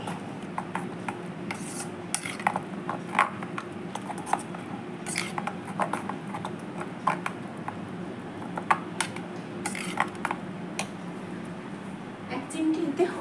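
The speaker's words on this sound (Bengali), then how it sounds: "এবার মশলাটাকে ভালো করে ফেটিয়ে নেব।" Spice paste for ilish paturi, hilsa fish wrapped in banana leaf, is beaten by hand in a bowl, giving soft, irregular scraping and tapping strokes that run steadily and quietly throughout.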